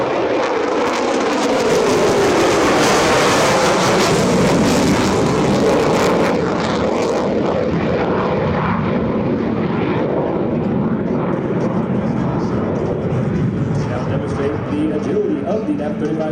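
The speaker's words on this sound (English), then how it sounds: "Here you will hear and feel the thunder as he passes show center at maximum afterburner" An F-35C Lightning II stealth fighter at an air show passes at maximum afterburner, a loud, roaring, broadband thunder that holds strong for about seven seconds and then fades into a lower rumble.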